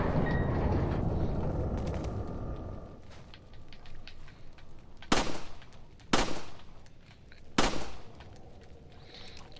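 Gunfire in Resident Evil 4 on PS4: a rumbling ambient stretch, then three sharp, loud shots spaced a second or so apart, each with a brief ringing tail.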